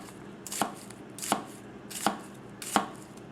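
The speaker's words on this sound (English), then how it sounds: "It is falling through this onion like nobody's business right now." A Goko 240mm gyuto knife with a 10,000-grit edge slices down through an onion, four crisp chops landing on the board at a steady, evenly spaced rhythm, close and alone.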